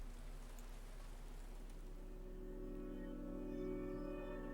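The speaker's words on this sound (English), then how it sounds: "It's raining." Steady rain falls in the video game If Found, a continuous hiss of drops on surfaces that holds at an even level throughout, with a low soft musical drone rising beneath it toward the end.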